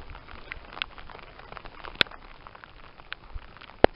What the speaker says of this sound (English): Alright, we have a nice steady rain.